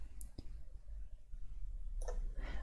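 Mouse clicks while cropping a photo on a computer, a few sharp close clicks, one near the start and a couple of quicker ones near the end, over a low steady background hum.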